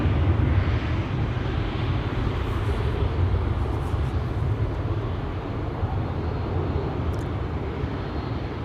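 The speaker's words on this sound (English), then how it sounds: "Turkish Airlines A350 should be also on its way to this runway to be taking off to Istanbul pretty soon" A Turkish Airlines A350 jet roars on takeoff from a Schiphol runway, a heavy continuous rumble holding steady and loud across the whole stretch with only slight easing toward the end.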